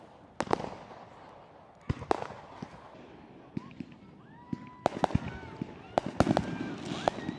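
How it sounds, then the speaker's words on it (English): Fireworks go off at a wedding celebration, scattered sharp pops and booming bursts with whistling trails between them, irregular and moderately distant, while people talk faintly in the background. "Sorry you're missing your fireworks, but it looks great."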